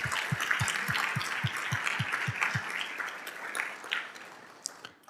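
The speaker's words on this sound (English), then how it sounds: "Let's give our sponsors a round of applause." Audience applause at an AI-in-storytelling meetup, a steady broadband patter of many hands filling the room for several seconds, fairly soft and roomy, with a few sharper isolated claps near the end.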